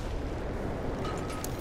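A mortar shell bursting in Battlefield 1, heard as a broad, sustained rumbling roar of explosion and debris that fills the whole short moment at steady loudness.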